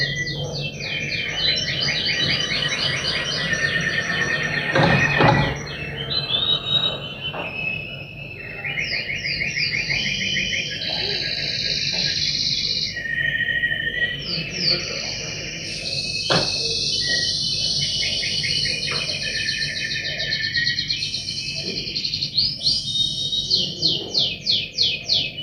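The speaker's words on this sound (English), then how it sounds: "what we hear is the birdsong starting to change" Repeated chirps and trilling bird calls sound over a steady insect-like drone in a staged performance piece, with the song shifting in character across the stretch.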